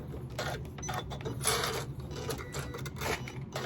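A sewing machine stitches a lined zippered pouch in short bursts, with rapid mechanical clatter broken by brief pauses and clicks for backstitching, close and moderately loud, no talk.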